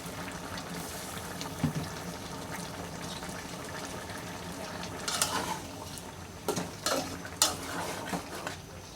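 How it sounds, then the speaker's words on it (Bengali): Chopped tomato goes into a potato and tilapia fish curry in a pot and is stirred in, with a spoon scraping and clinking against the metal over a steady low cooking hiss, with several sharper knocks near the end. "তো এর মধ্যে আমি একটু টমেটো দিয়ে দিই।"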